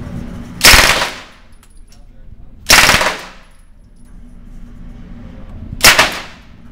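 Three short machine gun bursts at a police firearms range, each a sharp loud rattle lasting about half a second, separated by quiet pauses of two to three seconds.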